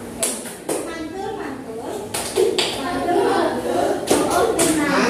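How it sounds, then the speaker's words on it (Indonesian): Junior high students do a rhythmic group clap as a cheer for the second group, several sharp synchronized claps ringing out in a classroom amid children's voices and chatter. "Oke, kita kasih tepuk mantul ke kelompok 2."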